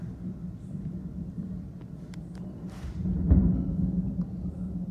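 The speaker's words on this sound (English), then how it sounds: "This is really loud thunder." Loud thunder during a big thunderstorm rolls as a low, continuous rumble that swells into a heavier peak midway and stays strong to the end.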